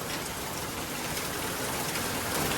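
Heavy rain falls in a constant broad wash of noise, close and steady, slightly swelling toward the end.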